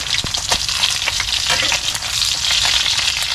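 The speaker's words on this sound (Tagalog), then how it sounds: "piniprito." Food frying in a pan, a loud, steady sizzle and crackle that carries through the whole stretch, close by, with occasional stirring scrapes and no talking.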